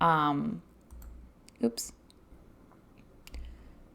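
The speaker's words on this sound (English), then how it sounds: "I am going to click on sections on the left, and then I would click add a section" Computer mouse clicks while adjusting Substack settings, a few soft clicks scattered after a short burst of speech, close and quiet against a hushed room.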